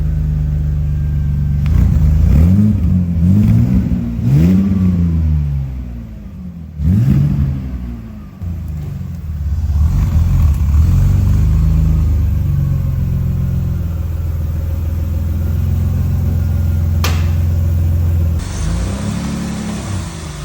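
A restored BMW engine, set up to run on E85, revs repeatedly on a dyno, loud and close, with rising and falling sweeps between steadier stretches of idle and sustained running.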